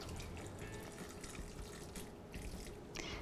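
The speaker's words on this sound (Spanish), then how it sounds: "entonces vamos mirando y agregando poco a poco el agua." Water pours gradually into a pot of vegan macaroni and cheese, a faint, steady trickle and splash.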